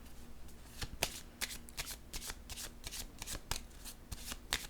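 A deck of playing cards being shuffled over and over, crisp riffling bursts repeating in an irregular rhythm, close and fairly quiet, with a faint low hum underneath.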